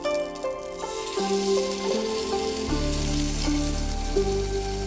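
Flour-and-water slurry is poured over gyoza frying in a pan, setting off a loud, steady sizzle and crackle that swells partway through and keeps hissing throughout, with no talking.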